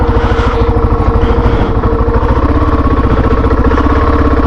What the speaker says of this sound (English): All three of us are riding KLR 650s.